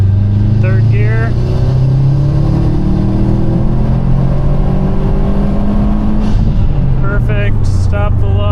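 A 2018 Subaru STI on a pump-gas tune pulls hard in third gear, engine note climbing steadily in pitch through a full wide-open run, then backing off, loud and close from inside the cabin with a voice speaking over it.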